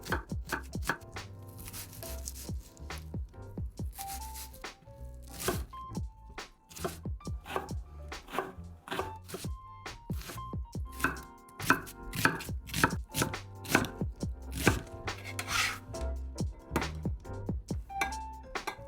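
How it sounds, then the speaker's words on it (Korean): Rapid knife chopping of onions on a cutting board, a steady stream of sharp close taps, speeding up in bursts, with no voices. "양파는 잘고 고르게 썰어주세요"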